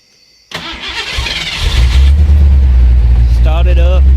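Fox Body Mustang engine cranking and catching after an ECU repair, a sharp starter whir followed by a loud, steady low idle that settles in and runs on; a person speaks briefly over it.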